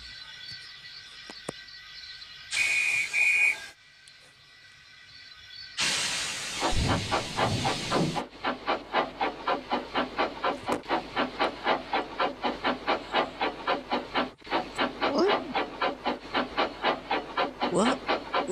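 A steam locomotive pulling a fish train lets off loud bursts of steam hiss, then settles into a rapid, rhythmic chuffing that runs steadily to the end, with brief whistle-like tones early on.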